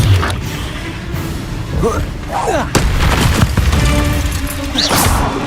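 Bombarda blasting-spell explosions in the Hogwarts Legacy video game, several heavy booms and crashes in quick succession amid spell combat effects, with a player's voice talking over them.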